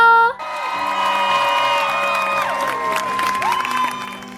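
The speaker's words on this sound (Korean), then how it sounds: "큰 박수로 맞이해 주세요" A studio audience at a televised music show cheers, whoops and applauds to welcome a chart-topping singer, a dense roar of crowd noise with bright tonal music rising through it, sustained and close throughout.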